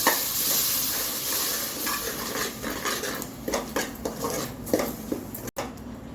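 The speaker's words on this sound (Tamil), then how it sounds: "அந்த பேஸ்ட்டை இதில் கலந்துக்கலாம்." A spoon stirs ground masala paste into spicy roadside-style salna in a pan, with metal scraping and clinking against the pan over a steady sizzle and no voices.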